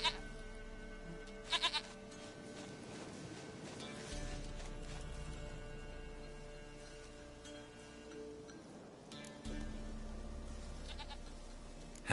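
A goat bleats in the video game The Witcher 3, a few short quiet bleats over a soft, steady game background.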